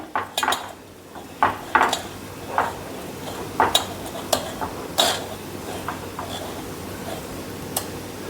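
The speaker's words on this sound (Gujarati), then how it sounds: "તો હવે આપણે આ ક્રીમને છાણી લઈશું તો તેના માટે મેં આ એક ચાણી લીધી છે" Cream is worked through a metal sieve with a spoon, giving a series of sharp metallic clinks and scrapes spaced irregularly at moderate loudness close by. There is no talk.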